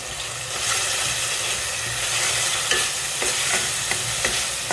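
Fried onion with garlic paste, onion paste and turmeric powder sizzling loudly in a pan, a dense continuous crackle broken by several sharp scrapes of stirring, close up and without voices.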